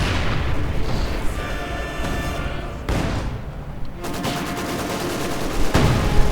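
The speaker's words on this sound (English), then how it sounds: "And the pack is getting bombarded." Company of Heroes 2 battle din: a dense, continuous wash of artillery booms and scattered gunfire, loud throughout, with heavier impacts near the end.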